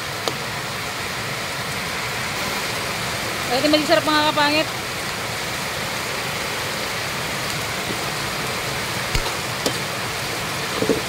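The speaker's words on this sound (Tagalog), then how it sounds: "Grabe, lakas ng ulan." Steady heavy rain hisses throughout, with a brief burst of a person talking in a kitchen partway through.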